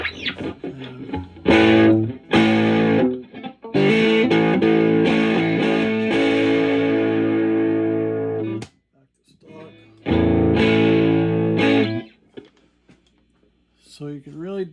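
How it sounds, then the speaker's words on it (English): Electric guitar played through a Fender '64 Vibroverb Custom amp with distortion dialed in, loud sustained chords ringing out, stopping, then resuming after a brief gap. "so you can really dial in the kind of distortion that you want"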